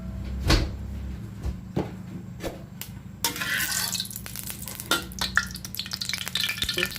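A cha-om (acacia leaf) omelette fries in oil, starting with a few scattered clicks and knocks, then breaking into a strong, continuous sizzle that keeps crackling with occasional sharp pops.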